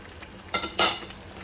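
Chicken being sautéed and stirred on a low flame, a quiet sizzle broken by two quick scraping strokes of a spoon across the pan, close by.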